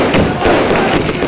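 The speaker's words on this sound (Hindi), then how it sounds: "बम पटाखे ये खुशी की लहर।" Firecrackers bursting at a celebration of an election win in Uttar Pradesh, a dense loud crackle of rapid pops and bangs filling the air with a rough, noisy texture.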